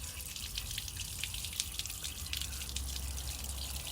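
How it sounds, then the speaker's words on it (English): Coolant water draining freely from a car's opened radiator drain with the engine off: a steady, close splashing trickle with faint drips, continuous and fairly even throughout. "Now with the engine off, we'll allow this water just to fully drain out."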